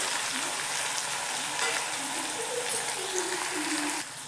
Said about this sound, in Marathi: आता याच्यात टोमॅटो परतून घेऊ, म्हणजे काय होईल, टोमॅटो पण आपला चांगला शिजेल